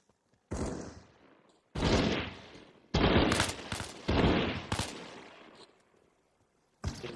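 Video game gunfire rings out in a military zombie-evacuation shooter: several loud, sharp bursts of rapid shots separated by short silences, close and dominant, with no talk.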